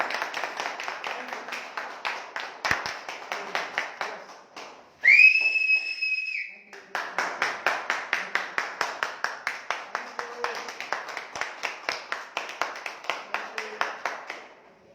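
A seminar audience welcomes a speaker onto the stage with rhythmic, unison clapping that pauses briefly while a loud, shrill two-tone whistle sounds, then resumes in a steady beat that fades toward the end.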